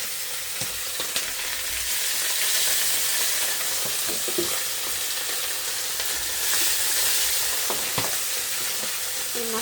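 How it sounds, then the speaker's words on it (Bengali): Turmeric, chilli and salt-coated fish frying in hot oil, a steady loud sizzle with sharp spattering pops scattered throughout, no voices. "এই মাছটা অনেক ফুটে, ভয় লাগে।"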